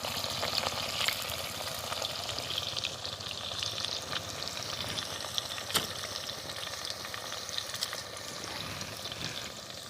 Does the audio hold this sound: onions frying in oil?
yes